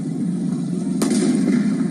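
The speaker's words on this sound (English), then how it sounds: "That was the sound of gunfire." A single sharp gunshot fired by Iranian riot police cracks out midway over a steady low rumble of background noise, with a faint second report trailing shortly after.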